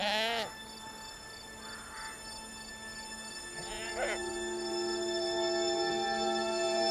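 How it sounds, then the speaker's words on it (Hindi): A goat bleats with quavering, wavering cries that stand out clearly at moderate distance, heard once at the start and again a few seconds later over a steady background hum. "बकरी को सामने से हटाओ।"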